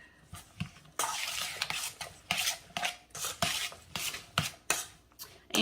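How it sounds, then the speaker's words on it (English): Fresh chopped tomato salsa seasoned with pepper and salt is stirred in a bowl, giving repeated wet, rasping scrapes in an uneven rhythm, close and fairly loud, with no talking. "Give this a good stir."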